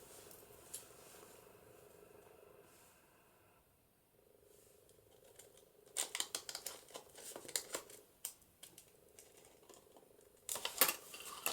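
Pinking shears cutting across paper for an altered book craft, heard as a run of quiet crisp snipping and crunching bursts in the second half, growing denser toward the end over a faint background hum.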